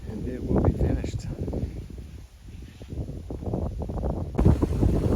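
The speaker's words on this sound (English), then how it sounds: "It's kind of windy" Wind gusts across an outdoor building site in Mexico, buffeting the microphone in loud, uneven rumbling bursts that rise and fall throughout.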